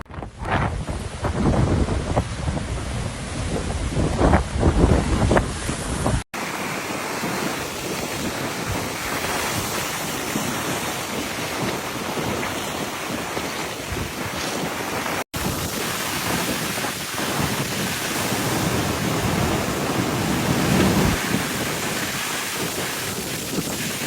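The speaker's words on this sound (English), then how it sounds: "The beating heart of the Aeolian Islands faced an exceptional storm surge yesterday, driven by strong winds" Strong storm winds and heavy surge waves battering the Aeolian Islands hamlet of Canneto in Sicily, a continuous loud roar of wind buffeting and crashing surf throughout, with no talk.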